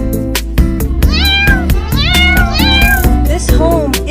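Cartoon kittens meow repeatedly in loud, rising and falling cries over a bouncy musical backing, several calls in quick succession.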